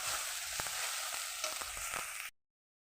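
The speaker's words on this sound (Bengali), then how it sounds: "মশলা ভাজা হয়ে গেছে" Spices with turmeric powder and salt for a tangra fish curry sizzle loudly in hot oil in a pan. Occasional stirring scrapes sound over the steady hiss, which cuts off abruptly.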